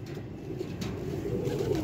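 A short stretch of pigeons cooing close at hand gives low, rolling throaty calls that overlap in a steady murmur.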